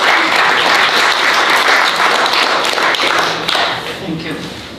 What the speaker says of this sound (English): we'd like to give him a round of applause in case they're watching